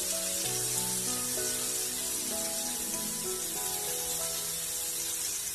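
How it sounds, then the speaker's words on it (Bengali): Chopped onion and grated carrot fry in a pan for a Gobindobhog rice vegetarian khichuri, giving a steady, even sizzle throughout, with a faint melodic tone running underneath. "পেঁয়াজ কুচি দিয়ে দেবো, লাল করে ভেজে নেব।"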